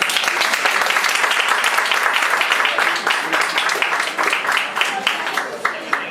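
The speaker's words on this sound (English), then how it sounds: "Round of applause." An audience at a film festival panel breaks into applause, loud dense clapping that gradually thins toward a few lingering individual claps at the end.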